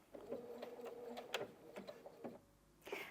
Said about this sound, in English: keep your finger on the button, it does a few stitches and then stops